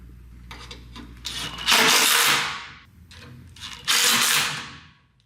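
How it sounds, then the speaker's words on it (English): A power driver sinks flathead square drive fasteners into recessed holes on a sunroom corner jamb, two rising whirring bursts, each spinning up and tapering off, close and fairly loud. "To secure the corner to the jamb, we'll use the supplied flathead square drive fasteners into the recessed holes."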